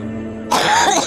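A single short, rough throat-clearing cough from a person, close and loud, lasting about half a second after a quiet moment of low background hum.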